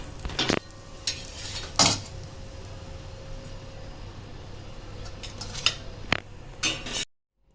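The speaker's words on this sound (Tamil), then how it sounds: "இதை நான் பிளேட்டுக்கு ட்ரான்ஸ்ஃபர் பண்ணிக்கிறேன்." A few clinks and scrapes of a metal spatula against a pan and plate as an onion roast dosa is lifted off and transferred, sparse sharp hits over a quiet kitchen background.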